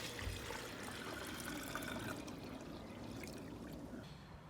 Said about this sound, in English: Gonna refill it with clean water.